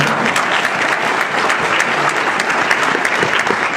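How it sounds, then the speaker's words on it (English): Audience at a Haiti Independence Celebration event giving a loud, sustained round of applause, many hands clapping steadily and close by without speech. "Let's give her a round of applause for her."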